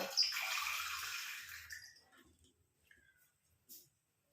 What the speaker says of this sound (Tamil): 3/4 டம்ளர் அளவுக்கு நான் தண்ணி சேர்த்துக்கிறேன்.